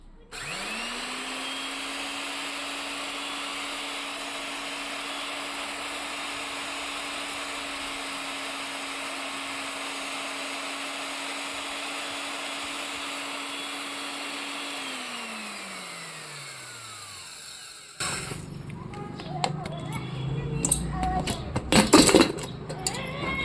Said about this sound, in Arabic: نطحن بقى البهارات ونشوف شكلها بعد الطحن هيبقى عامل ازاي